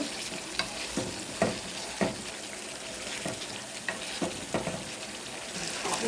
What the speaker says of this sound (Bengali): ডিম ভুনাটা হয়ে যাচ্ছে